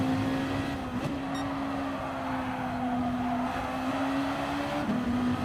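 Gr.2 race cars lap the Red Bull Ring in GT Sport, with one engine holding a steady, loud drone and small pitch dips at shifts, under a continuous wash of tyre and wind noise.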